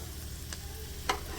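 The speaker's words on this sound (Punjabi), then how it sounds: "ਇੰਨਾ ਤੇਲ ਪਾ ਕੇ ਸਾਰਾ ਕੁਝ" Vegetables fry in oil in a pan, giving a faint, steady sizzle with two brief stirring scrapes, no voices.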